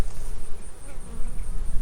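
Honeybees buzz densely around an open hive during a nuc split, a close, continuous humming swarm with slight rises and falls in loudness.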